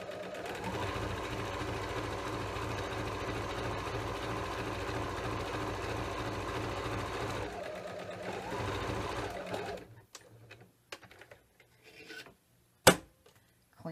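A sewing machine runs in one long, steady, rhythmic stitching burst across the top of a flange pillow, close and clear, then stops, leaving a few small clicks and handling sounds.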